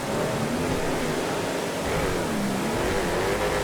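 A loud car engine in GTA FiveM drones continuously up close, its pitch wavering up and down as the revs rise and fall, with no talking over it.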